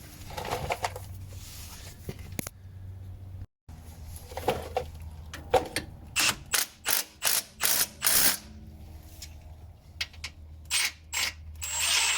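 A ratchet wrench tightens the idler arm bushing bolts on a Nissan Xterra, quick bursts of close, loud clicking in repeated short strokes, separated by brief pauses, with no talking.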